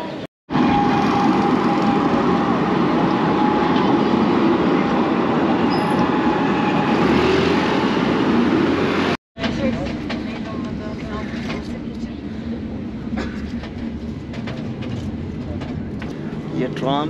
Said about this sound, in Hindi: ये ट्राम है और अभी आया सूफिया को क्रॉस कर रही है।